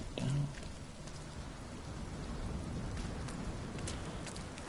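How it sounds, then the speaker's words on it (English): Steady rain from the Rime video game, a dense continuous patter of drops with a soft low rumble, even and moderately loud across the whole stretch. "if there's one effect in games that tickles me funnily, it's rain"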